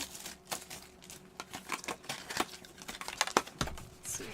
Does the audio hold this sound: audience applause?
no